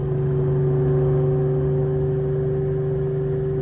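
A 750-horsepower 2004 Ford Mustang Cobra SVT pulls along in fourth gear. Its engine gives a loud, steady drone heard from inside the car, with no voices.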